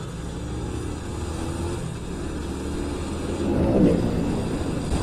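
A car drives along a city road in Bengkulu, Indonesia, with a steady, close engine and road rumble. The engine swells louder near the end as it accelerates, and no one speaks.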